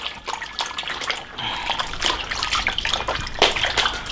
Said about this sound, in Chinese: 反复冲洗几次，把它冲洗干净。